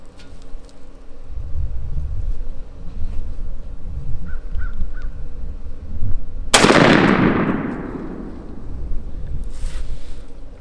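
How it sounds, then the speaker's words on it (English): A single loud shotgun blast fired downrange at 30 yards through a True Lock 585 choke while patterning for turkey hunting, sharp and close, its roar decaying over a few seconds against steady outdoor wind. "now we're gonna shoot the True Lock 585 downrange"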